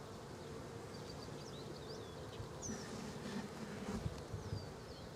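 Honey bees buzz around an open beehive during a brood inspection, making a quiet, continuous droning hum with faint higher whines from individual bees flying past.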